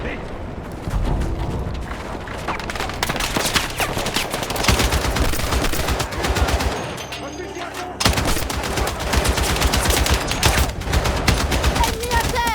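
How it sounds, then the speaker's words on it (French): Sustained machine-gun fire in Battlefield 6 on Gibraltar, dense rapid bursts with booming explosions throughout, loud and close, with voices talking over the battle. "Installe-toi à la mitrailleuse."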